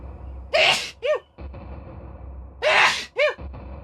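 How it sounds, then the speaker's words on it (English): Two loud sneezes a couple of seconds apart, each a sharp burst followed by a quick trailing breath, close to the microphone outdoors on a chilly late afternoon. "Where I sneezed very loudly."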